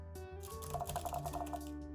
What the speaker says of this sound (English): Testing the keyboard